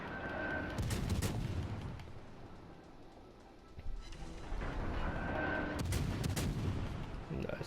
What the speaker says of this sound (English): That's it with these guns.